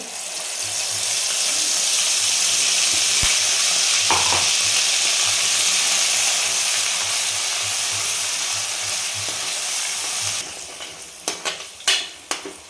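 Cashew-onion paste with three or four cardamom pods sizzles steadily in hot oil for an egg curry, a loud continuous frying hiss, ending with a few sharp stirring scrapes and clinks near the end.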